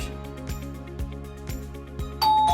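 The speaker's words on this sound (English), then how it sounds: "So our smart doorbell is successfully working" A wireless touchless smart doorbell chimes in a repeating electronic pattern at an even half-second beat, then a brighter higher tone sounds near the end, close and clear with no voices.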